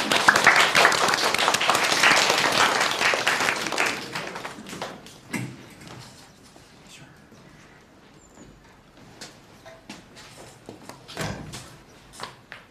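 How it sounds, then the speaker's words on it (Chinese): A classroom of students bursts into applause, loud and dense for about four seconds before thinning into scattered claps, shuffling and desk knocks. "来，我们掌声鼓励陈暮光同学"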